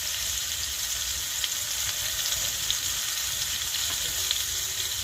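Potato and pumpkin chunks fry in oil in a pan for a vegetarian Bengali dish, giving a steady, dense sizzle with faint stirring scrapes throughout and no talk.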